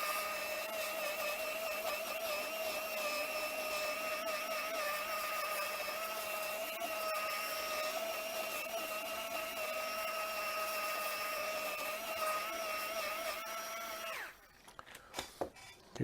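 A small powered buffing wheel polishes metal with a black patina, giving a steady, loud whirring drone with a bright tonal whine for about fourteen seconds before it cuts off and spins down, followed by a few clicks and knocks.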